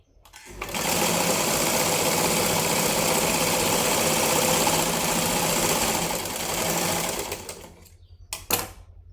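Electric sewing machine stitching a lined blouse, a continuous fast mechanical whir running steadily for about seven seconds, dipping briefly, then stopping, followed by a couple of short clicks and bursts.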